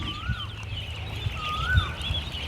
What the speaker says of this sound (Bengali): অনেক সুন্দর সেই বিশাল একটি হাঁসের খামার